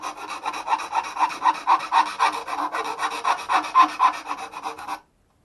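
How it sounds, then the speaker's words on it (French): Close, steady rasping strokes of a hand file smoothing down small model parts, a rhythmic back-and-forth scrape of roughly two strokes per second that continues for about five seconds and then stops abruptly. "On va finir tout ça à la lime."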